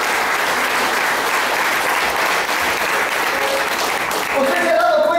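A church congregation applauds the mayor with a steady, dense wash of clapping that lasts the whole stretch, loud and close, with a voice starting to rise near the end.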